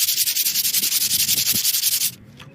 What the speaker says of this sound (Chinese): 接下来我们把另一片刹车片也给它打磨一下